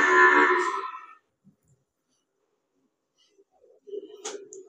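A Murrah buffalo on a farm lets out one loud, close moo, then goes quiet before a softer, lower call follows near the end.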